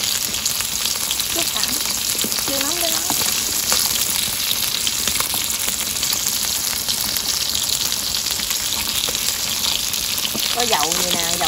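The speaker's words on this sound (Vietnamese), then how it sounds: "dầu nhiều nhưng mà chiên nó nhanh lắm" Food frying in a deep pan of plentiful oil for a rural Mekong Delta home meal, a loud continuous crackling sizzle throughout, with a few faint voices in the background.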